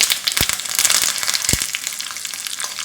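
Mustard and sesame seeds crackle and sizzle in hot oil for tempering, a dense hiss with sharp popping bursts scattered throughout, close and loud.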